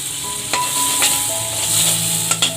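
A piece of Amul butter sizzles in a kadai, a close, steady frying hiss broken by a few sharp stirring clicks.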